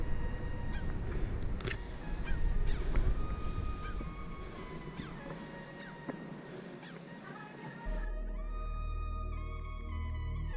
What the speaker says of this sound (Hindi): और अनेकों पक्षियों की सैरगाह और उनका आवाज।